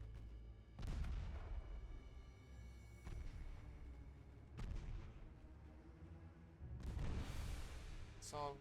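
Warships firing high-explosive shells in the naval video game Ultimate Admiral Dreadnoughts, a handful of deep booming salvos spaced a few seconds apart, each followed by a rumbling tail, with talking underneath.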